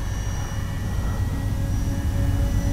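An E-flite Beechcraft D-18 RC model airplane on a 4S battery passes slowly with landing flaps down, making a steady, moderately loud electric buzz against outdoor air noise.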